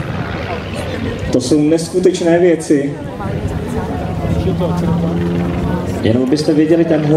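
An aircraft makes a final low pass at a military museum's technology day in Rokycany. Its steady engine roar runs loud and continuous beneath excited talking and crowd noise throughout.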